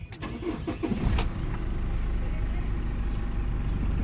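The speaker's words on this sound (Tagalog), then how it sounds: "Ignition on, engine start" A 2014 Chevrolet Colorado pickup engine cranks briefly with a few clicks, then catches and settles into a steady, close idle.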